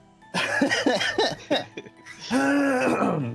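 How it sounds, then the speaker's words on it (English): A person coughs repeatedly in rough, strained bursts, then lets out a long groaning, throat-clearing hack; close and loud. "I'm gonna cough my brains out"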